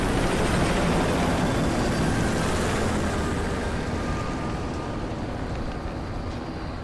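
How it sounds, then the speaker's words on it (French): A helicopter sets down in the Call of Duty: Ghosts video game, a loud, steady rotor and engine roar that eases slightly toward the end, with no speech over it. "L'hélico se pose, confirmez son identité."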